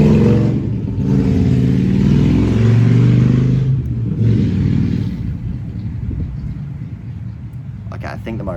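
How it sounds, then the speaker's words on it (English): A motorbike engine rumbles and revs as it passes, strong at first and then fading into the distance. Talk is heard over the engine noise. "I think the motorbike's gone in"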